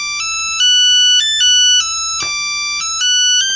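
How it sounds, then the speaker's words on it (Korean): A mobile phone rings with an incoming call, a bright electronic ringtone playing a repeating stepped melody, loud and clear with no voices. "그날 저녁 영숙이에게 바로 전화가 걸려왔습니다."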